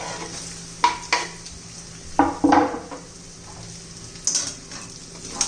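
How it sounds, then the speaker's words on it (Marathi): Finely chopped onion with ginger-garlic paste sautéing in oil for a spicy chicken dish, a steady sizzle broken by several scraping stirs of a spoon against the pan, close and without talk. "कांद्याचा कच्चापणा जाईपर्यंत आपण परतून घेणार आहोत"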